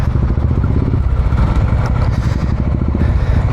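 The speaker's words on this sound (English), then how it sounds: "everybody is getting their bikes fired up for today's ride" Motorcycle engines, including a Royal Enfield Interceptor Bear 650, idle and rumble together before a group warm-up ride, a loud close chugging with overlapping exhaust pulses and no talking.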